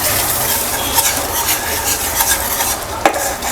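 Melted jaggery being stirred in a nonstick pan over a medium-to-high flame, continuous close scraping and bubbling sizzle with a louder knock near the end, no talk.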